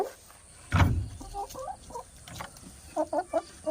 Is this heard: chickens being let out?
yes